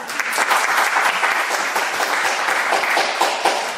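A church congregation applauding during a gospel sermon, dense sustained clapping from many hands that holds steady and fills the room for several seconds.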